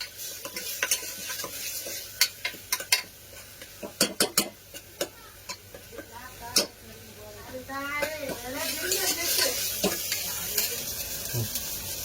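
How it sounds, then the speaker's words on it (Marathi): Ingredients for chicken feet soup sautéed and stirred in a pan, with a spoon scraping and clinking against the metal in sharp taps over a low sizzle, near and fairly quiet, and a voice speaking briefly partway through. "त्याचा वास थोडा जाईपर्यंत चांगलं परतून घ्यायचं"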